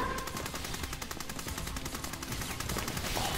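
Rapid automatic gunfire from the SAO Fatal Bullet video game, a dense stream of shots rattling steadily and loudly throughout with no talking over it.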